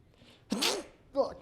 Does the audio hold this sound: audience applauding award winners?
no